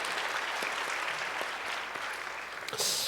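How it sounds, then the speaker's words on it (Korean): Applause from a church congregation fills the room steadily for about three seconds, dense and sustained with a few sharper claps standing out. "우리 큰 박수 주세요."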